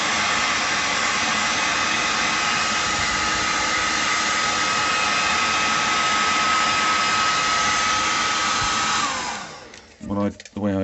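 A hair dryer heating a boiler's circuit board blows steadily and loudly for several seconds, then is switched off, leaving a few clattering handling noises.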